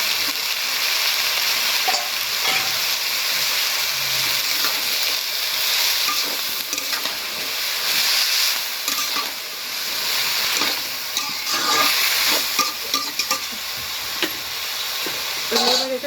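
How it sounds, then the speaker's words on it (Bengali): Washed mixed vegetables fry and get stirred in a pan for a village-style white vegetable bhaji, giving a loud, continuous sizzle with repeated scraping and clattering strokes of a spatula, close up and without talk. "এবার ধুয়ে রাখা সবজিগুলো আমি দিয়ে দেব।"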